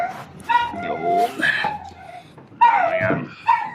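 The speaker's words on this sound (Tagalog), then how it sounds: "Grabe yung ingay ng aso ng kapitbahay mga idol." A neighbour's untrained dog barks, yips and whimpers in short bursts with uneven gaps, fairly close and loud, during work on a bathroom roof.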